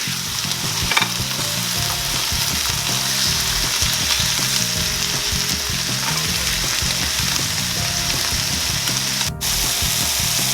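Thin-sliced pork chops fry in a hot pan, giving a loud, continuous close sizzle and crackle with faint scraping, and no voices over it.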